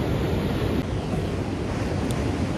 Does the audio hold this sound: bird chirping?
no